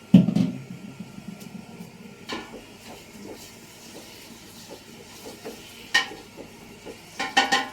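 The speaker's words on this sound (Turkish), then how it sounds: "Şu etimi ilave edeyim. Etimle birlikte kavrulsun." Meat added to browned onions in a cooking pan for a chickpea dish, with a soft frying sizzle under scattered stirring, spoon scrapes and light clinks of utensils against the pan.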